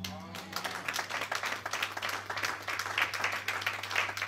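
A church congregation applauds the Lord at an evangelistic gathering in Paris: sustained, even clapping from many hands filling the room, with a low steady hum beneath.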